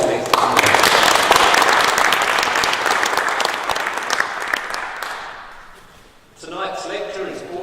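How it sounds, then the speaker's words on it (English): Audience applause welcoming guests to an evening lecture on religion in the public square, a dense, loud wash of clapping that slowly fades, followed by a voice speaking at the end. "let's give a warm round of applause to welcome our guests."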